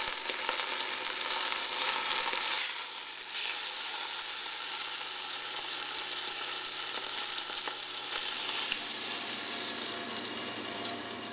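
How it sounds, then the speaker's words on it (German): Floured alpine ox shoulder searing in hot oil in a pan, a loud steady sizzle and crackle that continues without a break throughout, with no voices. "Die Schulter vom Almochsen bestäubt Markus Schwab leicht mit Mehl und brät sie dann in heißem Öl"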